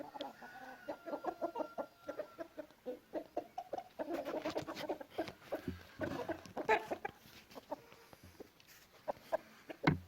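A turkey in a garden cage gives repeated short clucking calls in an irregular rhythm, fairly close and moderately loud, with no talk over it.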